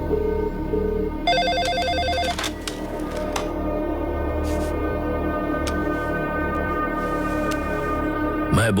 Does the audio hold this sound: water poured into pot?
no